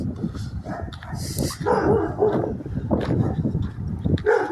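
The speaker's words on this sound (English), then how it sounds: "Dogs barking at me." Several dogs bark and yip in quick, overlapping bursts inside an abandoned Rent A Center in Midland, Texas, fairly close and loud, with a few whimpering tones mixed in.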